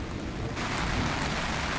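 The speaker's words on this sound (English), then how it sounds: "I think it's coming down a little heavier over there in terms of the rain" Heavy rain pouring steadily at Cowan's Ford Dam on Lake Norman, a dense, loud hiss of falling water that fills the scene without a break.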